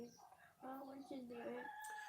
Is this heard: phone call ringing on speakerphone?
no